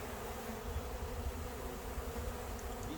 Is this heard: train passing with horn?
no